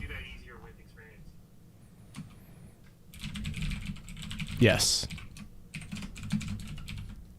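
Rapid clicking of a computer keyboard as someone types code, soft at first, then dense and busier, with a brief spoken word in between.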